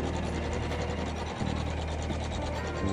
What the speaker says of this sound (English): it's going to sew some more decorative stitches